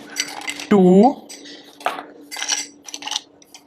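Ice cubes drop one by one into a glass for a homemade strawberry mojito, giving a few sharp, bright clinks spaced apart, close up, while a voice counts along.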